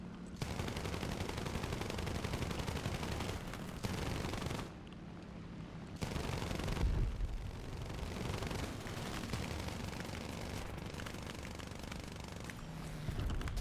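Machine guns fire in the War Thunder combat game in long, dense, loud bursts. The near-continuous rattle breaks off briefly twice and then resumes, with no voices heard.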